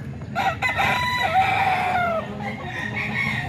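A banded-breed gamecock on display in San Jose del Monte, Bulacan, lets out one loud, close, drawn-out crow that tails off, with fainter clucking after it.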